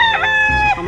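A rooster on a gamefowl farm gives one short, loud, close crow-like call lasting under a second, with no talk over it.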